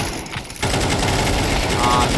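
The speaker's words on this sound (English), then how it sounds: "tries to spray him with that AK" Rapid AK rifle spray from Counter-Strike 2 match play, a dense loud burst of automatic gunfire that cuts in after a brief lull and continues steadily, with a commentator's voice talking over it.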